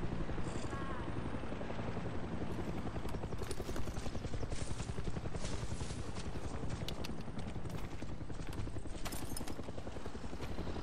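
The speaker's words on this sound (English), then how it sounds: "Fucking helicopter." Helicopter in the video game Far Cry 6, its rotor chopping in a steady, rapid pulse throughout, loud and close, mixed with scattered game effects and no speech.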